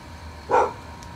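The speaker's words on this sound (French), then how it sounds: "Ça, c'est le chien de mon voisin." A neighbour's dog gives a single short bark partway through, mid-distance and moderately loud over a quiet background hum.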